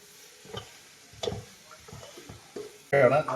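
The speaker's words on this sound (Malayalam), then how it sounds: "മസാല ഇങ്ങനെ വഴറ്റിക്കൊണ്ടിരിക്കുകയാണ്" Powdered masala with coriander powder being sautéed and stirred in a pan for a simple home biryani: a run of soft scraping stir strokes over a faint sizzle, ending in a louder clattering burst.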